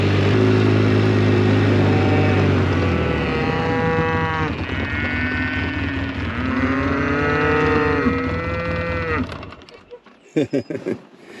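Several cattle moo loudly in long, drawn-out calls one after another, over a low engine rumble, before the sound drops away into brief clatter.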